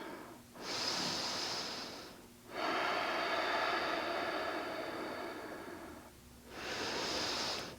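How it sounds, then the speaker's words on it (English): Slow, deep breaths during a supine yoga twist, with long airy inhales and exhales close to the microphone and brief pauses between them in a quiet room. "Slowing down our breathing."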